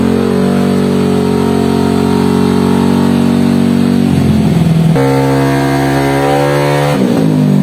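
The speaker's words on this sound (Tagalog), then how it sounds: "samahan nyo nga pala akong ipa-remap yung motor natin" A motorcycle engine revs hard and holds high on a dyno during a remap, loud and sustained, with the pitch dropping, then climbing again and falling off near the end.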